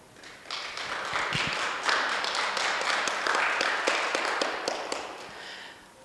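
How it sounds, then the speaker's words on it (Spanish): An audience applauding after musicians, guitar, drums and bass, are introduced at a lecture, with scattered individual claps that swell into moderate, fairly close clapping from a modest crowd and then taper off. "Les pido un muy fuerte aplauso para todos ellos."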